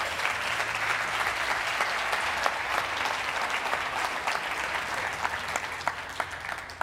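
An event audience applauds: dense, steady clapping from a sizable crowd, close and sustained, with no pauses.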